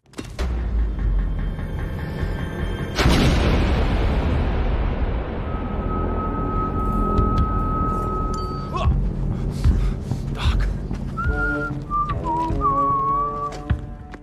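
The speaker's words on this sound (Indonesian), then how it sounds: "Ledakan granat tadi membuat Marcus sedikit lengah" A film grenade blast erupts with a sharp burst followed by a long rumbling roar and debris, then high whistling tones and ringing layer over the fading rumble.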